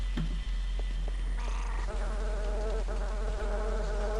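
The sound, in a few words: killer mosquitoes buzzing in video game Daikatana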